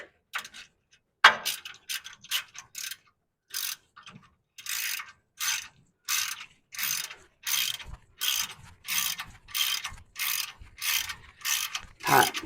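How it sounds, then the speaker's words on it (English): A ratchet tightening special pins during a brake job clicks in quick bursts, then settles into steady repeated strokes of rapid pawl clicks, close and clear with no talking. "Got my ratchet."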